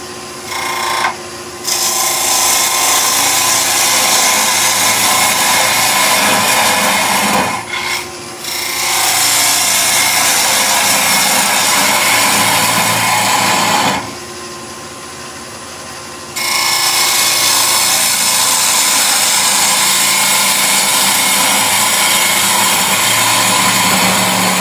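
A wood lathe spinning at 1600 rpm turns a tealight holder dish, the tool giving a loud, continuous rasping scrape against the wood. The cutting pauses briefly twice before resuming at full intensity.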